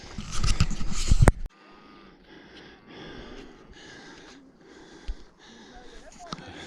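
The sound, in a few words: heavy panting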